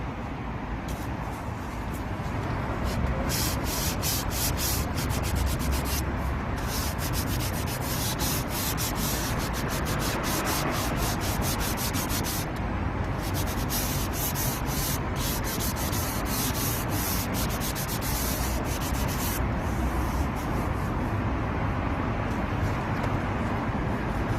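Rubbing of 220-grit sandpaper over the painted body panel of a Hyundai Grandeur HG Hybrid, a steady close scraping hiss in continuous rapid back-and-forth strokes with brief pauses.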